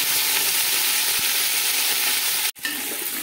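Cauliflower, beans and carrot sizzle steadily in a hot pan over medium-high flame while being stirred, a dense, continuous frying hiss with a brief dip near the end.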